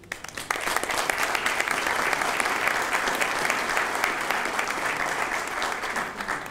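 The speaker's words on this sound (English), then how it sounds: "Let's give him a round of applause." An audience at an international conference on governance, ethics and development breaks into steady, full applause that starts abruptly and holds evenly for about six seconds.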